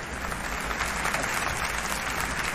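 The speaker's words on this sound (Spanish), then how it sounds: "El de ahí, no lo aplaudas todo, que esto no es un tablao flamenco" A live comedy audience applauds at a stand-up show, steady dense clapping that fills the room for a few seconds without pause, loud and close, with no talk over it.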